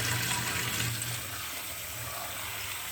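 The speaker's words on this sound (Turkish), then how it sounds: "Suyumuzu döküyoruz." Water pours and gushes steadily as wheat is rinsed for sprouting and the dark rinse water is tipped out, a continuous close splashing flow with no speech.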